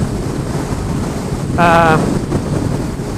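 Strong gusting wind buffets the microphone while riding a Yamaha XJ6F motorcycle, a steady roar swelling into a louder gust with a brief whistling tone midway.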